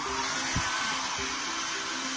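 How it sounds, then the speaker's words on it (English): Hair dryer blowing close to hair, a steady whooshing airflow hum with a couple of brief low thumps, continuous and near, no speech. "It's not safe to put the dryer so close by to your hair though."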